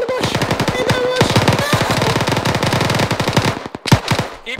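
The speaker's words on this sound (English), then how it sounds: "Keep firing, man!" Rapid automatic gunfire from the Arma 3 video game, long sustained bursts of loud close shots in quick rhythm with brief pauses, ending in a few scattered single shots.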